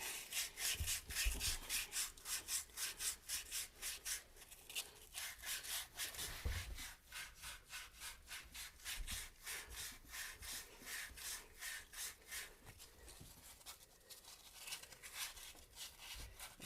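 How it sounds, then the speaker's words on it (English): A repaired crankshaft seat on a 2.7 L engine being wet sanded by hand, producing steady rhythmic back-and-forth rubbing strokes, close and fairly quiet, repeating evenly without any speech. "Now we're gonna wet sand it. So it's like a nice shiny seat."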